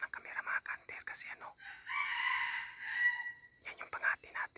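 A labuyo junglefowl rooster crows in a drawn-out call, with rapid squawks and rustling around it, then a second crow starts near the end; no speech.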